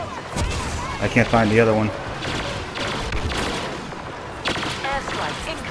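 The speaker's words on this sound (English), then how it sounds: "You don't like blaster fire?" Star Wars Battlefront blaster fire during a Walker Assault battle on the Jundland Wastes, repeated zapping bursts crackling throughout with distant booms, heard under a voice speaking briefly.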